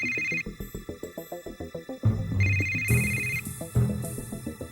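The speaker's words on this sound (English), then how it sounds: "Your phone's ringing." A phone rings in the Yakuza video game, a steady pulsing electronic ringtone repeating in quick bursts over game music and ambience, loud and close, with no talk over it.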